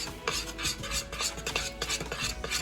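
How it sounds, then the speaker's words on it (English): Spoon stirring cookie bar batter with vanilla in a bowl, close-up rhythmic scraping and swishing strokes repeating steadily throughout. "Stir that together."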